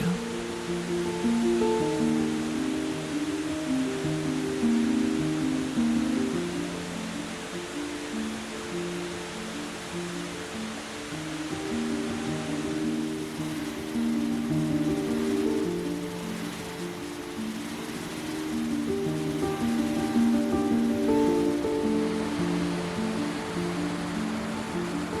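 Cascading water rushes steadily along a stream in northern Norway, a continuous broad roar that swells and eases slightly over time, heard alone without voices.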